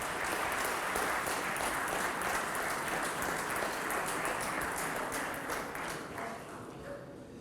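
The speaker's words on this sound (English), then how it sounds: "a round of applause for the IBSF World Snooker Champion, SN Ramzan." An audience applauds at the ending ceremony of a squash championship in Karachi, a dense, steady patter of clapping that gradually thins and fades toward the end.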